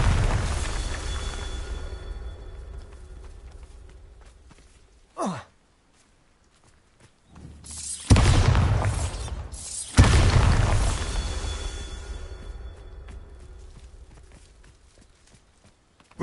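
Two heavy booming blasts from the Bombarda spell in Hogwarts Legacy, each a loud low explosion that rumbles and fades over several seconds, the pair separated by a short gap, with no talk over them.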